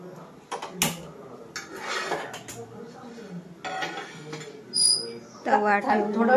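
A flat iron griddle (tava) set down on a home kitchen stove, with pots and pans clattering in a few sharp metallic knocks and clinks, close by, amid kitchen movement and a voice talking.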